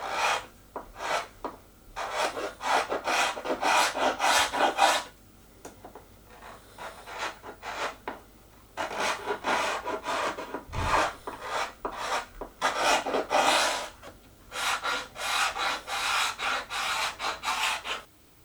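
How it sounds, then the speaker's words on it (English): A hand scraper fitted with a circular blade scraping along the curved wooden moulding of a pie crust table, giving repeated rasping strokes in bursts with short pauses between them. "I switched over to a circular blade to get inside the curves on the moulding."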